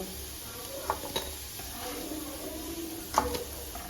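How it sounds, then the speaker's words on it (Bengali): Quiet sizzling of boiled raw jackfruit frying in a pan, with a few soft clinks and scrapes of a utensil stirring now and then. "এঁচড়গুলো ভেজে নেব"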